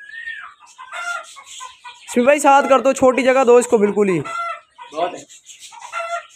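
A hen clucks and squawks close by, with sharp calls between and under the voices of people talking in a yard.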